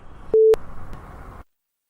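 A telephone busy tone right after a call is hung up: one short, loud steady beep over faint line hiss, then the line goes silent.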